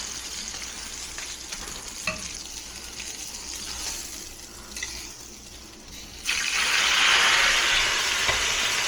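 Shrimp stir-frying in very hot oil, giving a steady sizzle throughout that swells into a louder, brighter hiss near the end, with a few faint clinks and no talking.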